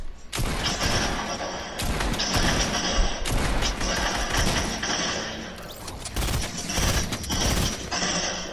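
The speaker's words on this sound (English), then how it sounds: "Who's shooting at me?" Gunfire in the Fortnite video game, dense bursts of shots crackling almost continuously through the whole stretch, loud and close with a thick game-mix background and no clear talk.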